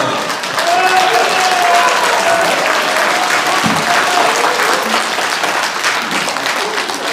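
Sustained audience applause at a political event honouring National Assembly member Jeong Un-cheon, loud and continuous for several seconds with a brief thump partway through.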